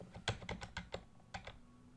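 Bracket keys pressed on a computer keyboard, a quiet run of about eight crisp clicking keystrokes in uneven rhythm, heard close up with no talking.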